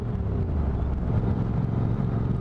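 Royal Enfield motorcycle exhaust, a dense, steady low rumble with a constant loud drone and no clear revving.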